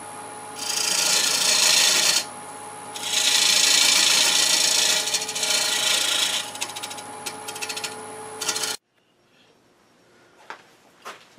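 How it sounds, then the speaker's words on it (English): Square end scraper working a wood platter spinning on a lathe: close, loud rasping scrape in long sustained passes with a short dip between, over a steady machine hum, ending abruptly into near silence with a few faint clicks. "I'm going to use this square end scraper to get just a little bit, this little bit of a"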